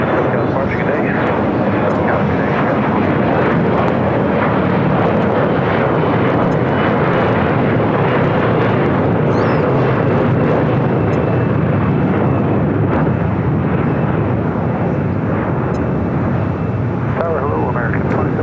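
An airliner takes off at LAX, its engines a loud, continuous broadband roar that holds steady and close for the whole stretch, with faint radio-style chatter mixed underneath.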